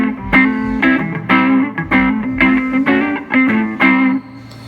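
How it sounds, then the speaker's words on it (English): Electric guitar runs through an MXR Sugar Drive acting as a super light drive boost, giving a subtly gritty tone on a rhythmic run of picked notes and short chords, up close and unaccompanied. "which I'm using a MXR Sugar Drive as a clean boost"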